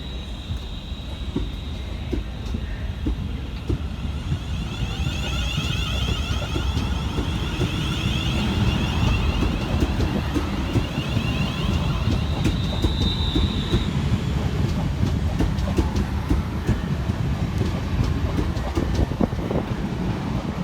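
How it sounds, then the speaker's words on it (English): A London Northwestern Railway class 350 electric train pulls out of Crewe station with a steady, loud rolling rumble, clattering wheels and a thin metallic squeal rising and fading partway through. "Next train out to depart is 350-117 and 350-250, with the 1513 London Northwestern Railway service through to London Euston"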